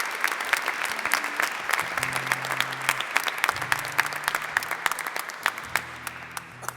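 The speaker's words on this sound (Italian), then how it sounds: "io chiederei un grande applauso a tutti voi, alla Cattedrale e agli amici promotori dell'Azione" A congregation applauding in a cathedral during Mass, a dense, lively patter of many hands clapping throughout, with low organ-like tones sounding underneath.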